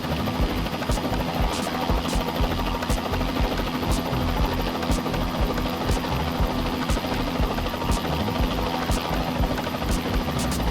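Bell 206B3 helicopter in Microsoft Flight Simulator, a continuous loud rotor and turbine drone with regular blade thumps throughout, steady and close with no voices.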